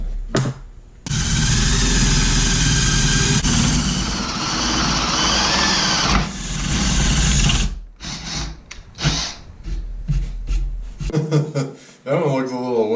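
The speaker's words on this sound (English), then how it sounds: "Now it's time to drill some holes." A power drill whirs loudly and steadily for several seconds drilling holes in pallet wood, stops briefly, then runs again before cutting off, followed by someone talking.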